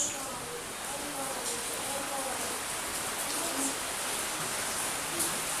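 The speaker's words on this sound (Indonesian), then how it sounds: "Hujan macam begini" Steady, dense hiss of rain falling heavily and continuously throughout, a constant wash of noise with no pauses.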